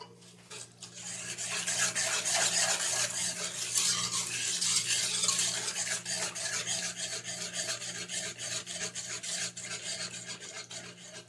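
Chocolate cake batter with margarine is stirred in a pan over heat with a spatula, a steady close scraping and rubbing that runs continuously for several seconds with a faint sizzle underneath.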